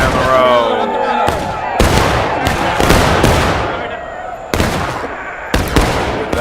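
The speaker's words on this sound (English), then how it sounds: "And the CSA shooting down the road." Gunfire from a Civil War battle game rings out in a string of sharp, loud musket cracks and booming reports, some near and some distant, scattered irregularly over about six seconds with ambient battle noise between.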